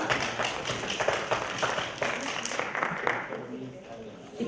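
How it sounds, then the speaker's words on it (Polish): Audience applause at an art competition award ceremony in Lubin sounds as a steady, dense patter of clapping with sharper individual taps throughout, while a voice speaks over it. "Gorące brawa."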